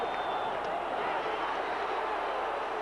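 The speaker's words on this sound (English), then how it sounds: "Listen to the crowd." A packed baseball stadium crowd at a World Series game sends up a steady, roaring wall of noise that holds evenly throughout, with no single voice standing out.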